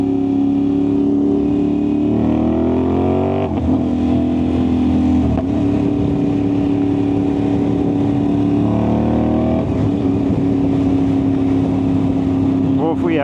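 An Aprilia RS660 motorcycle with a loud exhaust drones continuously, rising in pitch as it revs and shifts gears, with wind rushing throughout.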